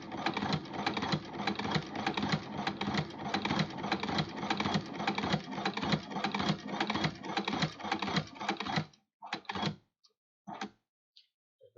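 A sewing machine reverse stitches a guitar strap with a fast, steady mechanical chatter for about nine seconds, then stops and gives a few short spurts before falling silent.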